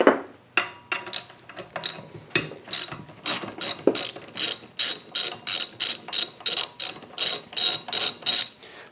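Ratchet backing bolts out of a Dixon lawn mower, with close, loud clicking strokes that start irregularly and settle into a steady rapid rhythm.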